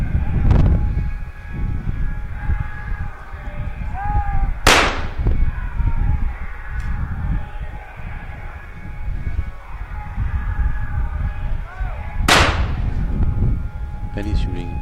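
Two sharp, loud gunshots ring out about eight seconds apart at a shooting World Cup event in New Delhi, over a steady crowd murmur and indistinct chatter.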